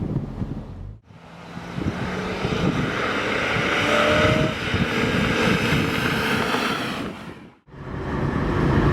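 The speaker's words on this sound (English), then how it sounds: "Dangerous Dave and I are out clocking a little lap on the highway, but I mean, we got the top down, we're going 65 miles an hour" BMW M3 E46 convertible cruising on a highway at about 65 mph with the top down: a constant loud rush of wind buffeting and road roar, with engine drone underneath and short dips where the noise briefly drops.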